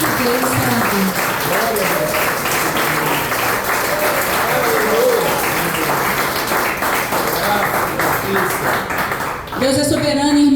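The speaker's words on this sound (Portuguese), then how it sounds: "Irmão, você pode aplaudir o Senhor?" Church congregation applauding during a worship service, a sustained wash of clapping mixed with a singing or speaking voice over it, ending with a brief dip before voices resume.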